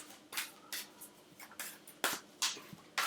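Repeated soft papery riffles and slaps of tarot cards being shuffled, about eight quick bursts in an irregular rhythm, close and fairly quiet, with no talking.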